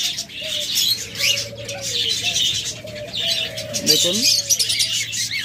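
Pet budgerigars, cockatiels and lovebirds chirp and tweet in a steady, dense chorus of high calls, with a brief word of speech in Bengali over the birds.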